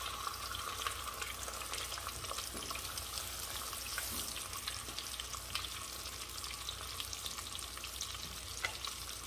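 Garlic and salmon frying together in a pan give off a steady, dense sizzle that holds at an even level throughout, with no talking over it.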